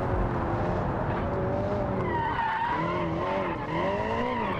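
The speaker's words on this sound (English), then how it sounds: "I do love getting the back end out in this car and then trying to hold those drifts." A car drifts with its back end out, tyres skidding and squealing continuously over a loud, close engine roar. The squeal's tone wavers as the slide is held, with no talk.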